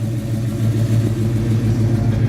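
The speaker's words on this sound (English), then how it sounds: "So it's got the bump and the sound and the power that you'd expect in a muscle car" A muscle car engine idles close by with a deep, steady rumble, low and throaty with a slight lopey pulse, continuous throughout.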